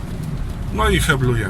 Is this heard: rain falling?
yes